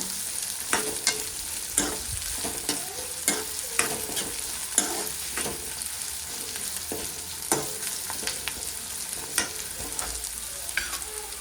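Chopped onions fry slowly in oil over a low flame, giving a soft continuous sizzle. Frequent scraping and stirring strokes tick through it at an irregular rhythm.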